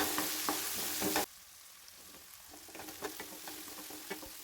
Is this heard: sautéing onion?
yes